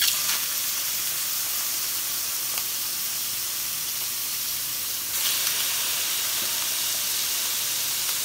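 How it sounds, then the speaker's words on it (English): Raw shrimp sizzle in a hot pan with olive oil, a loud steady hiss of frying with fine crackle, swelling slightly louder partway through as more hit the pan; no voices. "Go ahead and add your raw shrimp."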